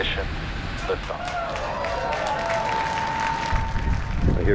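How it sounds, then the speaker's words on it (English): Distant crowd cheering and clapping at a SpaceX rocket launch, heard from a boat: a faint, diffuse swell of applause and voices under steady wind and water noise. "I hear people cheering over there."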